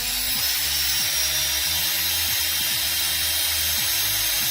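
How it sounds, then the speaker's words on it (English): A power drill runs continuously at its top speed while priming 17HMR rimfire cases, giving a loud, steady whine with a rhythmic mechanical chatter that repeats through the whole clip and no talking. "I've got it on the fastest speed that my drill will go"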